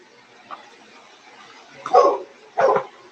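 Two loud, sharp barks from a rescue dog close by in a barn, preceded by a faint yip, in an otherwise quiet setting.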